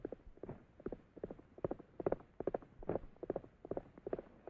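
Hooves of Trigger, a horse on a Western range, clip-clop in a steady, moderately close walking rhythm, with no other sound.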